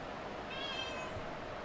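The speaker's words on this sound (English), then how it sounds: "Meow." A cat gives a single faint meow, short and thin, over a steady background hiss.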